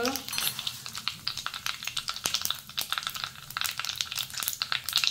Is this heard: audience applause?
no